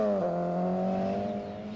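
A Vauxhall Astra GTE rally car with a 6-speed gearbox, racing on a British Open Rally Championship stage in 1988, holds a loud, strained engine note nearby, with pitch dipping slightly across the short pass.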